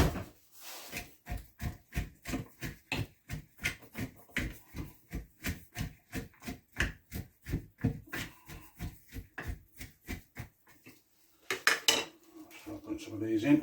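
Garlic and shallots are squashed down for a chilli ferment with a utensil in a container, making a long run of rhythmic, evenly spaced knocks and clinks that end in a brief rustle and clatter.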